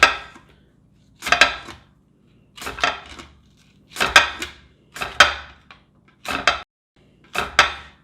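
Potato sliced on a waffle fry mandoline slicer: seven crisp, scraping slicing strokes in an even rhythm, each about half a second long, with silent gaps between them, close and fairly loud.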